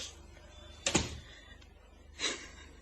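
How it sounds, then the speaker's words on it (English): A door closing indoors in an old radio crime drama, giving one sharp close thump followed later by a softer knock or latch sound, with no voices over it. "Please, Mr. Keeler, close that door."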